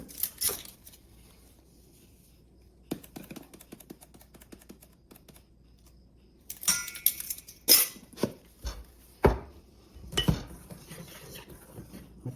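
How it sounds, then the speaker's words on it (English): Dry sponge cake ingredients, flour with a little salt, are stirred together in a bowl with a utensil, making irregular clinks and scrapes. The sounds come in short, clustered bursts after a quiet start, with no talking. "Mix that together so everything is combined."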